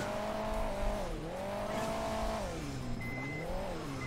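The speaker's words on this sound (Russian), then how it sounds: "Супер дизель сзади едет" A Super Diesel vehicle in the mobile racing game Hill Climb Racing 2, its engine droning steadily with pitch rising and falling as it revs, continuous and fairly close.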